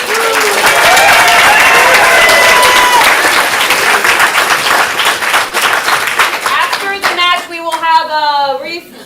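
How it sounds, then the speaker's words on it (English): Applause from the audience at an improv comedy showcase, a loud, dense wash of crowd clapping with some cheering that rises early and then gradually thins, while voices and a few whoops come through near the end. "So big round of applause for all of you guys and all of you."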